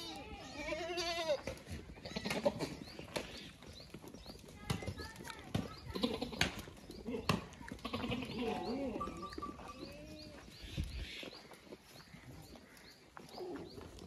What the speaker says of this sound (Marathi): ह्याच क्वालिटीच्या शेळ्या मिळून जातील।